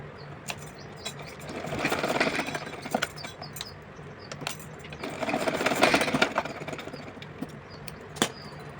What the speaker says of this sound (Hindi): इसी तरह से इधर की भी सिलाई लगाएंगे।